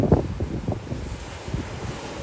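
Strong wind buffets the microphone at a campsite in Greece in loud, gusty rumbles and thumps, continuous throughout with no voices.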